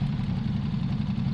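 Ducati Monster engine running through Termignoni slip-on exhausts, a steady, close, deep rumbling idle with a continuous low throb and no breaks.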